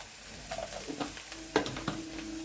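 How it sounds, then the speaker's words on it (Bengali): Onion and garlic frying with turmeric in a pan for an aubergine mash, a soft steady sizzle with a few stirring scrapes and clinks of a spatula, close and alone without talk. "পেঁয়াজ আর রসুনটা বেশ সুন্দর ভাজা হয়ে গেছে।"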